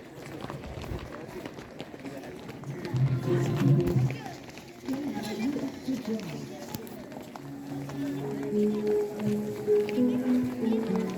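Students at a school assembly march in time, a rhythmic patter of many feet stamping together while a voice calls commands over them.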